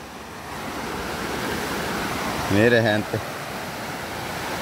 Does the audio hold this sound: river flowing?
yes